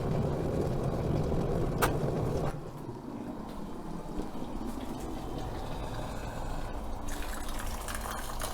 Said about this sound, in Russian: Сейчас наберем водички и будем кипятить.